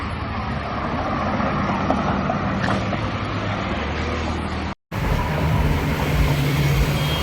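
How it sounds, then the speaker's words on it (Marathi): A Ferrari sports car engine rumbles steadily amid loud, continuous Mumbai road traffic noise, with a brief abrupt break midway. "इथे मस्त आता फरारी येणार होती, ती बघ आवाज येतोय पाठीमागून"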